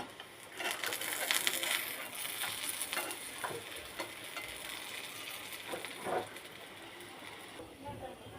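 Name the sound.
fish kebabs frying in a pan, being flipped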